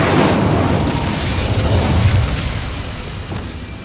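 An Incendio fire spell cast in Hogwarts Legacy bursts into a loud, rumbling fiery blast that stays dense and roaring for several seconds, then slowly eases off.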